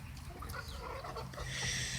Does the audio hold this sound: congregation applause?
no